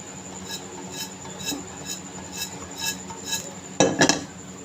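Onions frying crisp in a dry pan with no oil, a steady faint crackle with small clinks of a metal spoon stirring, then a louder scrape near the end.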